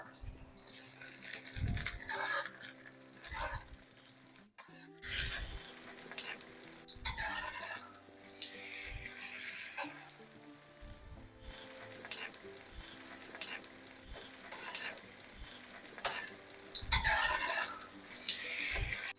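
Eggs sizzle and get stirred in an oiled pan for shrimp fried rice, with a soft sizzle under repeated scraping and tapping strokes of a spatula, plus a louder clatter partway through.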